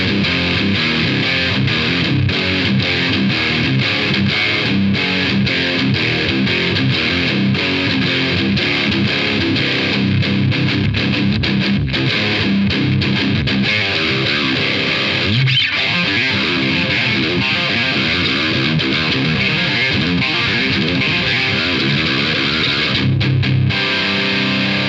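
An electric guitar played through a Caline Pure Sky overdrive pedal rings out in loud, steady distorted chords and riffs, double-tracked across left and right, alone without talk.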